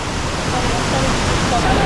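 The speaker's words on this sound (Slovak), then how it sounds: "Práve sme pod vodopádom" Steady broadband roar of a waterfall in Da Lat, Vietnam, heard from right below it, loud and continuous with no break over the whole stretch.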